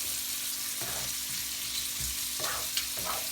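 King prawns fry with garlic in a hot pan, a constant close sizzle broken by several bursts of stirring and scraping as they are tossed around, with no talking.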